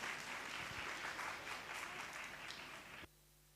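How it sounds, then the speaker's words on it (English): Steady audience applause fills a school stage event, dense and sustained for about three seconds before cutting off abruptly to near silence. "Can we have a huge round of applause, everyone?"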